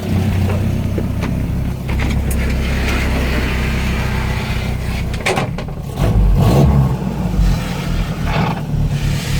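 A 1988 Jeep Comanche truck's engine runs loud and close while reversing a short way, a steady low rumble that swells briefly as it moves, with no talking over it.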